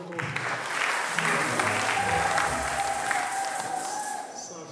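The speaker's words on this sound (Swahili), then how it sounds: "Na tuwapigie makofi." Sustained clapping from a crowd at a youth conference builds and holds for several seconds before easing slightly, with murmured voices and a faint tone running underneath.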